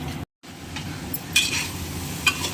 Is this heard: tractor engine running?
no